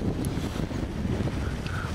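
Wind gusting across Lake Victoria on a cool, breezy morning, a steady rushing roar buffeting the microphone with no voices.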